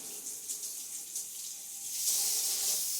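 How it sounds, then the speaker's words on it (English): Kitchen tap water runs steadily into a sink while a pizza cutter wheel is rinsed clean, a continuous close hiss that grows slightly louder and brighter partway through, with no talking. "You're going to want to wash that off because you don't want to have to scrub a razor blade wheel"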